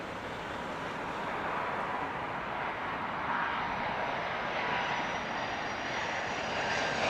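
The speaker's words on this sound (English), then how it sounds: "This is an A380." An Airbus A380 landing on runway 27 left at Heathrow, a broad, steady engine roar with a rushing wash that holds loud and near throughout, no talk.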